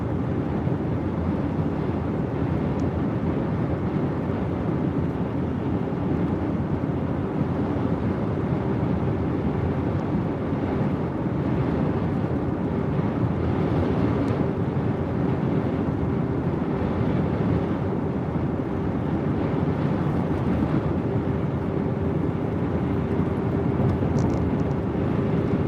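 Strong wind during a Gulf Coast tornado chase in Louisiana and Mississippi buffets the microphone as a loud, steady roar that lasts throughout, with no voices.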